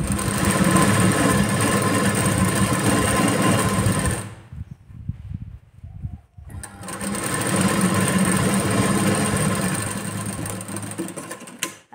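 A sewing machine stitches near the tucks of a blouse, whirring loud and steady, stopping abruptly for about two seconds, then starting up again at the same even pace.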